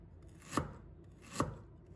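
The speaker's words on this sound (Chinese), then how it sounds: "再准备一块去皮的生姜， 切成薄片。" Two crisp knife chops through peeled ginger onto a cutting board, cutting it into thin slices, spaced under a second apart and close up in a quiet kitchen.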